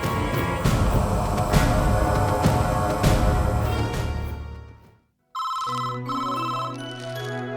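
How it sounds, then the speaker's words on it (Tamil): A telephone bell rings loudly and repeatedly in a scene from a Tamil television serial, filling the first five seconds before a brief silence and a steady musical tone. "போய் ஃபோன் எடு"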